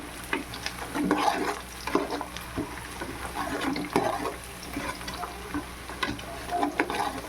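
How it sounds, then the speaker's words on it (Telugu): Cashews frying in a pan with reddened onions for prawn biryani: a dense, close sizzle with frequent scraping stir strokes and clinks throughout, no speech. "ఇప్పుడు జీడిపప్పులు వేద్దాం జీడిపప్పులు కూడా వేయించుదాం"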